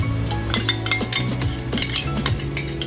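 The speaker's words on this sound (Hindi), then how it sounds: "अब हम इसमें डालेंगे 2 चम्मच देसी घी।" A metal spoon clinks and scrapes against a pan while two spoons of solidified desi ghee are added to grated coconut for barfi, in steady close rhythmic taps with no talk.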